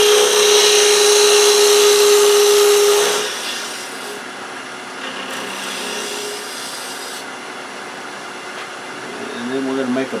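Half-inch spindle gouge cutting a cove into spinning wood on a lathe for a door stop, a loud steady scraping hiss that stops after about three seconds, leaving a quieter motor hum with faint tool contact near the end.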